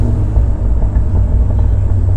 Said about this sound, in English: this which is called burbles. So the burbles, it's a little less, it's more subtle